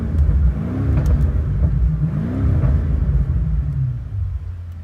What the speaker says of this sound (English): Right now the exhaust is loud.